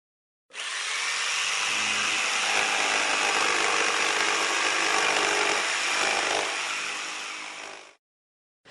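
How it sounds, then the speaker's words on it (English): A circular saw runs steadily for about seven seconds, a bright, harsh whine chewing through wood, then stops abruptly. "you have a circular saw, and this one makes this sound"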